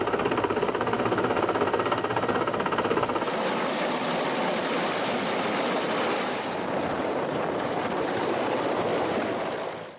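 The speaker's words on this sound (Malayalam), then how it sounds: "ഹെലികോപ്റ്റർ ഇറങ്ങി." A helicopter carrying the President lands at the Rajiv Gandhi indoor stadium in Pathanamthitta, its rotor and engine producing a loud, continuous roaring wash that stays close and steady before fading slightly at the end, with no voices.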